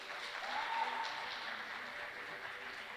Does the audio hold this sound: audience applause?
yes